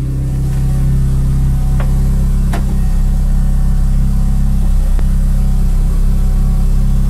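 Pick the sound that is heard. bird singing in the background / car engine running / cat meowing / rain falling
car engine running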